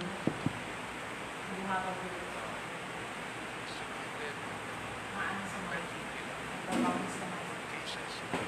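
Outdoors, wind blows into the microphone as a steady broadband rush lasting several seconds, with a few faint voices and small knocks under it.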